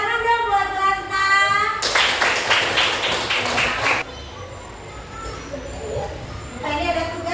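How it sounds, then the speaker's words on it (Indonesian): Classroom of students applauding together, a dense burst of hand clapping lasting about two seconds amid a teacher's talk before and after. "Tepuk tangan dong buat Lasna"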